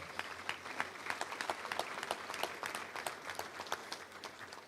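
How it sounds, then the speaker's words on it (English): An audience at a touchdown club luncheon applauds, a faint, steady patter of many hands clapping throughout, heard from some distance with no talk over it. "Let's give them a round of applause if you can."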